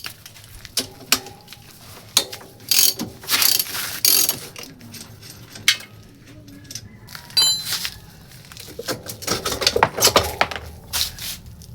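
A ratchet with a 14 mm socket clicks in bursts while loosening a Suzuki Smash 115 motorcycle wheel, with close, irregular metallic ratcheting and clanks.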